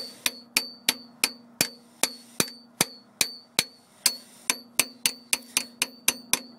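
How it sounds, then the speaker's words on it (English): Repeated sharp metallic taps of a small hammer driving a screwdriver into the oil filter of a 7.3L Powerstroke diesel, about two dozen evenly spaced ringing strikes, close and alone. "I just took a screwdriver, tapped it in with a small hammer"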